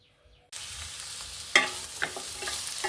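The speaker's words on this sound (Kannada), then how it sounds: "2 ಸ್ಪೂನ್ ಆಯಿಲ್ ಹಾಕ್ಕೊಂಡು ಈರುಳ್ಳಿ, ಬೆಳ್ಳುಳ್ಳಿ, ಶುಂಠಿ ಇಷ್ಟನ್ನು ಹಾಕ್ಕೊಂಡಿದ್ದೀನಿ. ಸ್ವಲ್ಪ ಚೆನ್ನಾಗಿ ಫ್ರೈ ಮಾಡ್ಕೊಳ್ಳೋಣ." Onion, garlic and ginger frying in two spoons of oil in a pan for chana curry: a sudden hiss as they hit the oil, then steady sizzling with a few stirring scrapes and clicks, close and alone.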